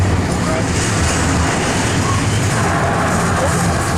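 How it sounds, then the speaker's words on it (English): Pacer double-stack freight train passing close by, a continuous loud rumble of wheels and cars with no break across the short stretch. "And finally, Pacer stack train too."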